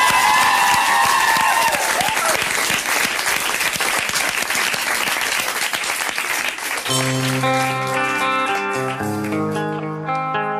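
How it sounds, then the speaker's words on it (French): TV studio audience at a music show loudly applauding and cheering a singer; dense clapping fills the first part, then sustained music rises over the fading applause. "Applaudissez-le bien fort"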